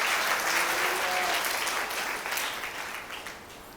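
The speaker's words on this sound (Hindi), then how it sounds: "तालियां बजा के प्रभु को धन्यवाद दीजिए" Congregation applauding during a Hindi church sermon, a dense steady wash of many hands clapping together that slowly fades toward the end.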